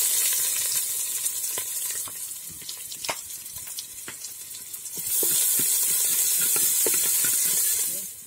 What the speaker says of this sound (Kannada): ಎಣ್ಣೆ ಬಿಸಿ ಆಯಿತು. ಸಾಸಿವೆ ಹಾಕ್ತಿದ್ದೀನಿ. ಸ್ವಲ್ಪ ಕರಿಬೇವಿನ ಎಲೆ ಹಾಕ್ತಿದ್ದೀನಿ.